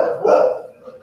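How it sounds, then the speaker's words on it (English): Dog barking indoors, one brief close bark with a quick tail-off. "I apologize for my dogs. They will bark from time to time."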